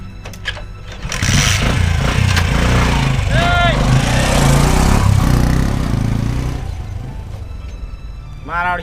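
A motorbike engine cranks and catches, then runs at a loud, steady revving drone for several seconds before dropping off. Voices are heard around it.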